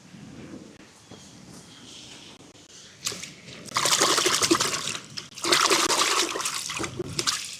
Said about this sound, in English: Just rinse my hands off.